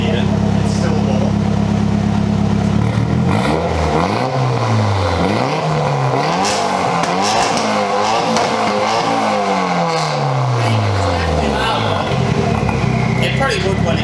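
A Volkswagen Golf R engine with the resonator deleted and the catalytic converter removed revs repeatedly, rising and falling in loud sweeping blips over a rumbling idle, with people talking nearby.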